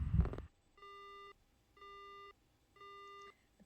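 Three evenly spaced electronic tones mark a phone call ending in the video game Spirit Hunter NG, each clean beep lasting about half a second, following a brief louder burst at the start.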